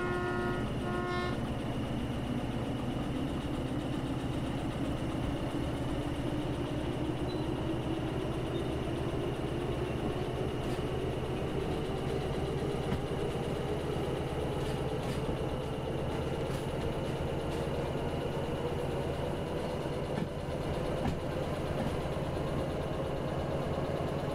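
A steam locomotive in the Derail Valley simulator pulls away and runs, its engine note rising steadily in pitch as it gathers speed, with a brief whistle-like tone at the start and a constant rumbling drone throughout.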